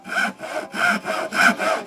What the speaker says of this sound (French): si vous n'avez jamais utilisé de scie japonaise, sachez que on va tirer sur la lame pour la couper